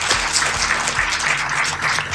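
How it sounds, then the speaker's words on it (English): An audience at a community health event in San Antonio applauds with a dense, continuous clatter of many hands. It stays steady for the whole two seconds. "how about a round of applause for 5 individuals?"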